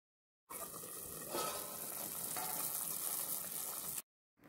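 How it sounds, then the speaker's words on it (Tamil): Broccoli soup simmering in a covered pan on the stove: a steady, fairly loud bubbling hiss with a slight sizzle runs unbroken for about three and a half seconds and then stops abruptly. "நல்லா ஒரு 10-15 நிமிஷம் கொதிக்கட்டும்."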